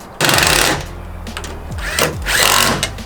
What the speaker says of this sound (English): Then just put your two 10mm bolts back in.